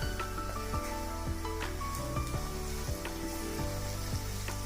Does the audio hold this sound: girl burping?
no